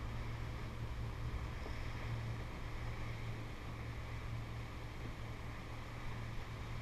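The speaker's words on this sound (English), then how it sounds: "Because it's a big block pushing a little boat." A motorboat on Lake Powell, a small boat driven by a big block engine, drones in a steady low hum with wind and water rush running continuously through the whole stretch, with no talk.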